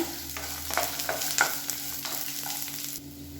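Onion and garlic sauté in hot oil for a chutney, giving a steady, close sizzle with soft stirring scrapes running through the whole stretch.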